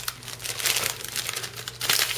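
Paper crinkles loudly and continuously at close range as sheets of double-sided craft paper are pulled from packaging for a mini album, with no talk.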